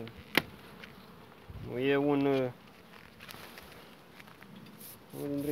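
Bees around an opened beehive during sunflower honey extraction, one buzzing close by and swelling for about a second amid faint background hum, with a person briefly speaking.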